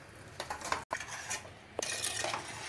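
Puttu arisi halwa with grated coconut being stirred in a pan over a medium flame: a steady run of spoon scrapes and light metal clinks with a faint sizzle, close and moderately loud, broken by one brief dropout.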